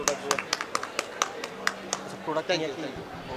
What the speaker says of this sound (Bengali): আমরা তাহলে পিপিলিকা.com-এর একটা হাততালি তো দিই সবাই